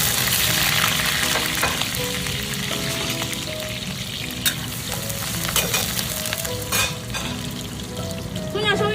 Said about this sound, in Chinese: 油热了放葱姜。